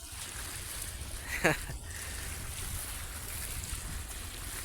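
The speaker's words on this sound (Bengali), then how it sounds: "পানির আওয়াজ হয়তো পাইতেছেন যেহেতু লঞ্চ আছে" A river launch passes a riverbank late at night, a steady broad wash of water and engine rumble close by, with a brief louder swish partway through.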